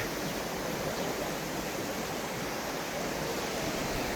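The swollen, flooded Pambak river rushes past in a loud, unbroken roar of turbulent water, steady and close with no pauses and no voices over it.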